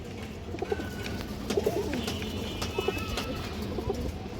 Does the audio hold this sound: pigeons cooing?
yes